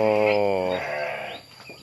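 A sheep on a farm gives a loud, close bleat with a wavering, nasal tone that lasts almost a second. Softer farm noise follows.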